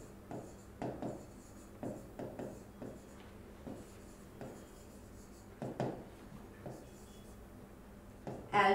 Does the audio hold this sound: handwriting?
yes